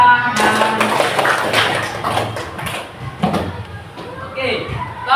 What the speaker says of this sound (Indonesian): Tepuk tangan, tepuk siku, tepuk bahu.